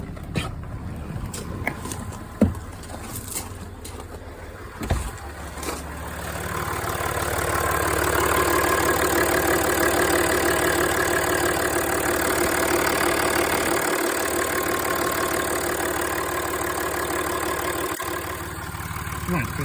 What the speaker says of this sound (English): we'll switch the engine off